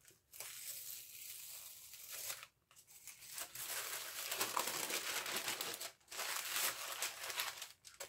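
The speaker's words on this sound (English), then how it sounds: "I think we're going to have to take all these stickers off" Stickers being peeled off a wrapped gift envelope, with a steady run of close papery crinkling and tearing broken by short pauses.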